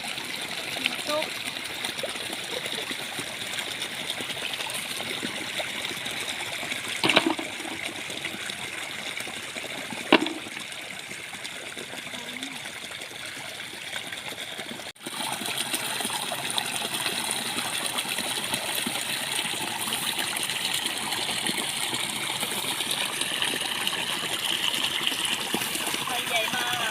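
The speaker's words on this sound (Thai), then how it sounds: "น้ำตก" A waterfall at a snail-collecting spot in rice fields gives a steady rushing splash of falling water, with a couple of brief knocks and louder broadband roar in the second half; voices are present.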